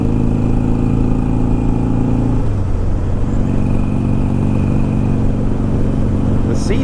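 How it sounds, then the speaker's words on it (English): Motorcycle engine and exhaust while riding, a steady loud mid-range drone with shifting engine tone partway through, close and continuous for the whole stretch. "the joys of riding a motorcycle"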